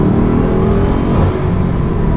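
A Bugatti Chiron, the 261 mph hypercar, accelerates hard with a loud, continuous, close engine roar that rises steadily in pitch through the short stretch, with no talking over it.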